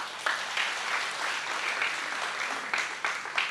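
Loud applause from a church congregation standing during a sermon, dense steady clapping filling the room with a few stronger bursts, no talking over it.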